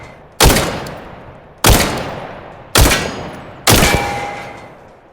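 Four evenly spaced semi-auto gunshots in the mobile shooter Tactical Assault, each a loud sharp crack close by, fading quickly before the next shot, with no talk between them.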